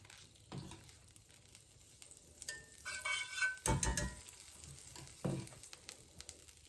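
Food simmers and spits gently over low heat in a Cajun shrimp-and-grits pan, a soft sizzle under scattered louder clatters of a utensil against the pan, fairly quiet overall with no talk.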